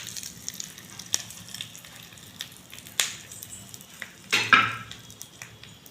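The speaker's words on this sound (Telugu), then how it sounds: "పోపు వేసుకుంటున్నా." Tempering crackles in hot oil for a spinach (palak) chutney, with faint frying sizzle throughout and sharper pops and bursts near the middle and end, loudest just before the close.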